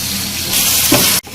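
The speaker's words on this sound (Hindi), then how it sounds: "लहसुन अदरक का पेस्ट डाल के भी इसको साथ में अच्छी तरह से भूनना है।" Garlic ginger paste sizzling hard in hot oil over a high flame, a loud continuous frying hiss that swells briefly before cutting off sharply near the end.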